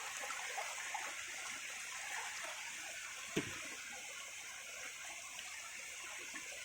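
A steady, quiet wash of flowing water from a river canal near Settivaripalle, Brahmasagar, running continuously in the background with one brief soft knock partway through.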